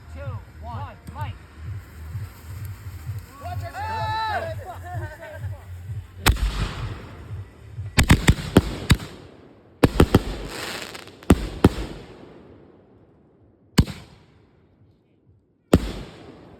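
Fireworks set off outdoors: after people chatter, a series of sharp, loud bangs pops out in irregular clusters, each followed by a crackling decay, with longer gaps between the later blasts.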